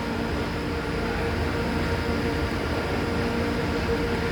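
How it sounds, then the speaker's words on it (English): A train rolls into Birmingham New Street station, a steady, loud rumble with faint hum that fills the platform throughout, no talking. "And another train coming up,"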